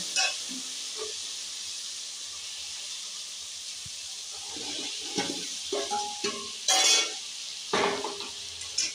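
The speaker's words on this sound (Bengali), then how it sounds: "এবার আমি এর মধ্যে ভেজে রাখা আলু আর কুমড়োগুলো দিয়ে দেবো।" Fried potatoes and pumpkin are tipped into a hot pan for a potato-pumpkin chokka and stirred, producing a continuous sizzle with spatula scrapes and a few clattering knocks toward the end.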